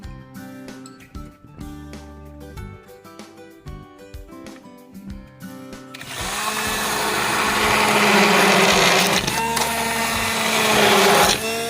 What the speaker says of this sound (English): use the immersion blender and see if we have it at sauce level